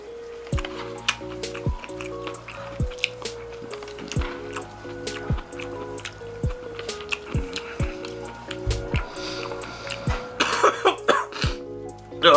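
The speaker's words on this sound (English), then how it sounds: "Oh god, coughing it out." Person coughing while eating a bowl of Nissin Top Ramen chicken noodles: repeated short coughs and throat clearing with wet slurping and squishy mouth sounds, close and fairly quiet over steady music.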